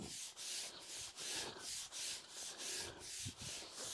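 A stiff brush scrubs two-part resin grout into the joints of a porcelain patio. Steady, rhythmic rasping strokes repeat about eight times, near and fairly even, with no talking.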